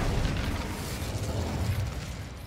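Incendio fire spell cast in Hogwarts Legacy, a steady roaring whoosh of flame that holds loud for a couple of seconds with no talk.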